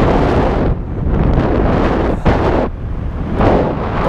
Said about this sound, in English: Bumpy, but I feel the wind, the lift.